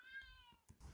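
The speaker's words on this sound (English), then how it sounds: "it's my cat that is complaining right now" A pet cat meows once in a long, drawn-out complaining call from the background indoors, fairly soft, followed by a few short faint knocks.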